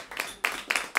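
Scattered claps from a jazz audience in a small venue, a few sharp bursts spaced through a short moment, fairly quiet and thin rather than a full ovation.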